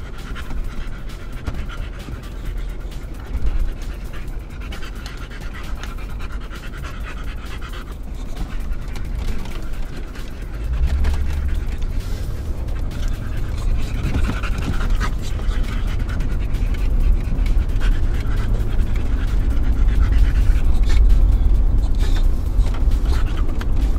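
Two boxer dogs pant steadily and loudly inside a moving car, with continuous rough breathing over a low engine and road rumble that grows heavier partway through.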